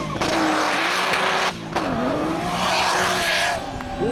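A BMW E34 M5 Turbo spinning donuts at a car meet, its engine roaring loud and close while the tires squeal and skid continuously, the pitch of the screech dipping and rising as the car swings around.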